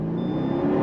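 A 2009 Mercedes-Benz SL 550 V8 pulls away from a dead stop under throttle, with a steady, loud low engine rumble heard from inside the car over a brief stretch.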